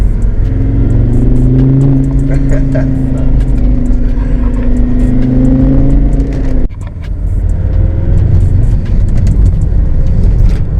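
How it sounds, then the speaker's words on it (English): A Volvo V70 drives along a small, narrow road, its engine a loud, steady droning rumble with a low hum throughout and a brief dip midway. It is heard close from inside the car, and no one speaks. "We're going to have a little drive."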